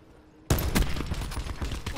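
Gunfire in the video game Call of Duty Black Ops 4 bursts in suddenly, a loud dense volley of shots that continues steadily.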